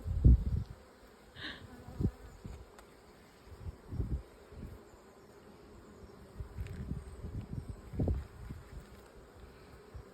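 Bees buzz around an open Buckfast beehive during an outdoor hive inspection, a steady low hum with scattered louder passes close by and occasional handling knocks and rustles.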